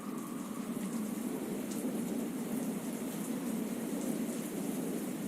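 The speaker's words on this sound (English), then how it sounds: "Thunder strikes, the rain continues to pour" Steady rain pours down during a storm at sea around a ship, a dense, even hiss of water holding constant for several seconds with no voices.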